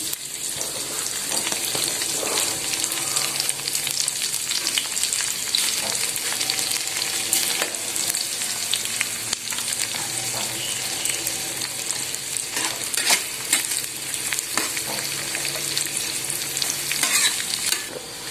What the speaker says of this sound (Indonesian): kita goreng bumbu ya di minyak yang sudah kita panaskan